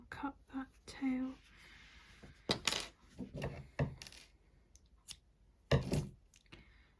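Scissors snip through a crochet yarn tail on an amigurumi doll, a few short sharp clicks close by amid quiet handling and a soft voice talking.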